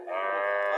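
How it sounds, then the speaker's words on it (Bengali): A dairy cow, a large milk-producing cross-breed, gives a single short moo close to the microphone, a steady tonal low lasting under a second. "পিজিএম জাতের গাভী বড় আছে গাভী বাছুরটা"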